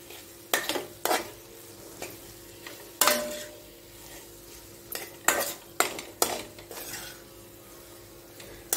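A spatula stirs and scrapes vada pav potato filling mixed with fresh coriander in a pan, making irregular close scraping strokes and clinks against the metal, with no talking.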